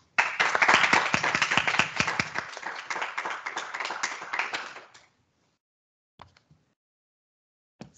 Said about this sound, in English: Please give her a warm round of applause.